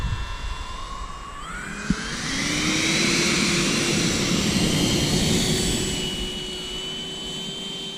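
A 6S-powered electric ducted fan RC glider ground-launching, its high fan whine rising in pitch as throttle climbs into a loud sustained whoosh, with a brief knock near the start, close and without talk.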